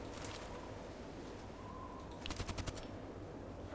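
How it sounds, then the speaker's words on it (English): A teammate's gunfire in a shooter game: a short, quick burst of distant automatic shots sounds briefly over constant ambient noise with faint bird calls. "Okay, it's one of mine shooting."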